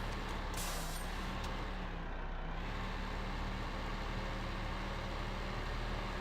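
Truck engine in Farming Simulator 15 running steadily with a loud, constant broadband rumble and a sharp hiss of released air brakes near the start, with no talking.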